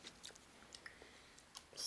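Someone bites into and chews Kinder chocolate at close range, giving a few soft, quiet crunches and mouth sounds spread over about two seconds, with a louder rustle at the end.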